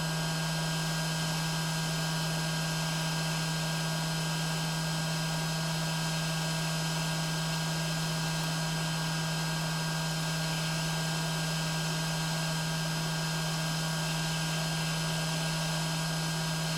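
A hot air rework station blows a constant, unbroken hiss with a steady low hum while heating the audio IC off an iPhone 7 board. The level stays even throughout, with no speech.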